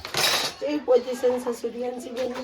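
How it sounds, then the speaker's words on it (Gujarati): Dishes being washed at home: a brief burst of clinking utensils at the start, followed by a voice talking over quieter handling sounds. "આમનો વાસણ ધોવાનો વારો આવ્યો"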